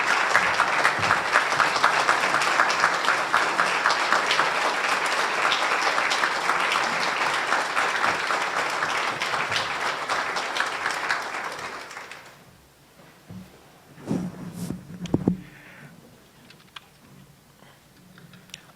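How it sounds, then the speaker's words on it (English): Audience applause fills a morning business seminar about an international airport, steady dense clapping for about twelve seconds that drops off abruptly, leaving a quiet room with a few scattered thumps and small noises. "Another round of applause, please."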